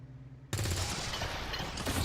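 A sudden loud gunshot burst in XCOM 2 cuts in after a quiet half second, followed by a sustained, dense roar of weapon fire and reverberation that holds at full level to the end.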